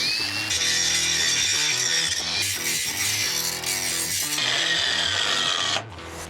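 Power tool grinding down rough spots on the freshly cut frame rails of a 4Runner after a cross member was removed, a loud steady abrasive whine running continuously for several seconds before easing off near the end.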